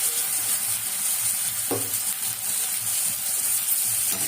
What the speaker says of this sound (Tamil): தக்காளியும் வெங்காயமும் வதங்கணும் பாருங்கள்